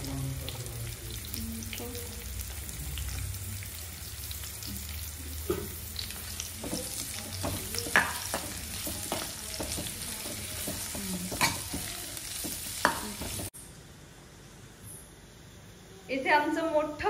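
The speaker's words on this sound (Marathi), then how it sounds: "पहिले कांदा आणि खोबरं भाजून घ्यायचं छान छान" Onion and coconut dry-roasting in a pan, a low, faint sizzle with intermittent stirring scrapes, a voice talking over it, then a quieter stretch near the end.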